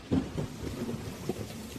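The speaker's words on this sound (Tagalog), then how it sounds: "Napakalakas naman ng ulan na ito." Heavy rain with low rumbling bursts and a dense wash of patter, fairly faint and steady throughout, with no voices.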